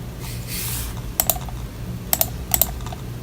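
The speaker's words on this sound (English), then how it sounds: "I typed in the policy number over here." Typing on a computer keyboard while entering a policy number into a form, short bursts of crisp close keystrokes separated by brief pauses, with no voice.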